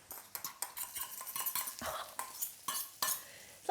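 Fried potatoes scraped and tipped into a single pan with butter, a busy run of metal utensil clinks and scrapes against the pan with soft sizzling underneath, close and fairly quiet.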